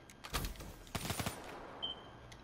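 Video game gunfire on the map Beserk, two brief bursts of rapid shots, fairly faint, followed by a quiet pause with no talk.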